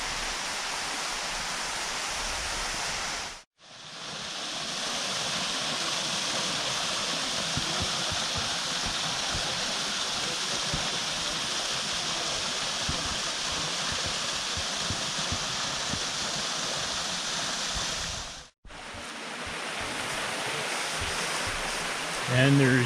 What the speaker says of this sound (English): And there's yet another drop to the waterfall.